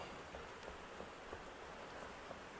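Steady rain pattering in the survival game Enshrouded, a soft even hiss with faint scattered drop ticks at an outdoor seating area of a small town build, with no talk.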